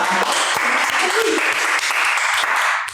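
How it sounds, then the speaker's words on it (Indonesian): Applause from a studio audience on an Indonesian street-talk show, a steady dense wash of clapping lasting a few seconds with a brief murmur of voices underneath. "Wow, tepuk tangan lu."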